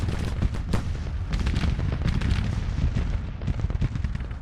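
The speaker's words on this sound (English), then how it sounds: "I'm going to let the artillery work here" Heavy artillery fire rumbles through a Civil War battle in a video game, with repeated booming cannon blasts and crackling gunfire layered over a dense, continuous low roar of combat.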